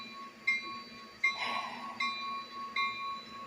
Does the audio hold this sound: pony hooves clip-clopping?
no